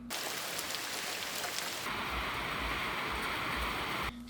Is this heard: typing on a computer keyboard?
no